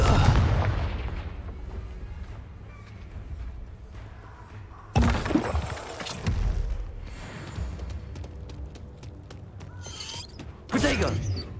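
In Hogwarts Legacy, a Confringo explosive spell blasts with a sudden heavy boom and rumbling thud, followed by a second impact, with creaking and muffled game effects around it.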